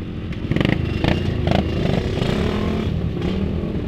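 A Yamaha RX King two-stroke motorcycle at a retro riding event revs repeatedly in short blips over a loud steady engine drone, close and strong.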